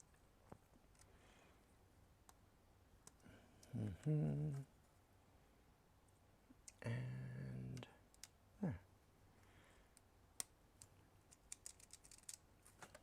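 Keyboard switch keys are pushed into place on a columnar-layout keyboard, giving sparse, faint clicks and snaps with two louder handling bursts in a quiet room.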